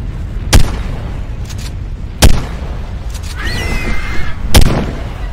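Gunshots in Ark Survival Evolved Mobile, three loud sharp cracks spaced about two seconds apart with a brief whistling tone between them, over a low rumbling background.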